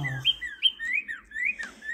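A cardinal bird singing, a series of clear, close whistled slurred notes repeated in a quick phrase, alone with no background talk.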